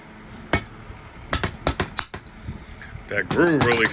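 Several sharp metallic taps from a hammer striking a metal part while grooving a head for an O-ring, spaced irregularly, followed by a brief louder clatter at the end.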